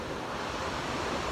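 Ocean waves wash onto a beach boardwalk shore on a morning walk, a soft, steady broadband roar that holds evenly throughout, fairly faint and distant, with no voices.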